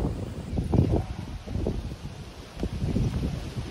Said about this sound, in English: I'm sorry if it is really windy